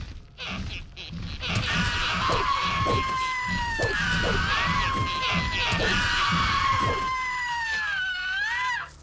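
Harpies in the video game Gothic give long, piercing screeches with wavering, gliding pitch, stacked over busy in-game thuds and clatter from a mountain fortress fight, continuous and loud, then ending abruptly.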